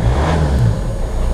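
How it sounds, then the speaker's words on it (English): A Volvo S40 diesel car engine idles steadily right after a key start, with a low continuous rumble that holds close and fairly loud throughout, no voices over it. "The engine sounds spot on."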